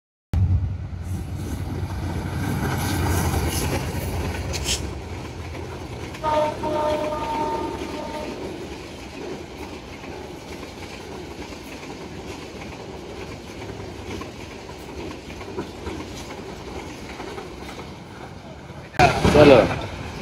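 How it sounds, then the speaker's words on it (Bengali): A train at Chatmohar railway station rumbling and clattering along the tracks, steady and fairly close, with a burst of louder noise near the end and some background voices. "অবশেষে পৌঁছে গেলাম চাটমোহর রেল স্টেশনে।"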